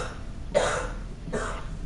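A woman indoors gives two short, dry coughs about three-quarters of a second apart, close and fairly soft, with no talking over them.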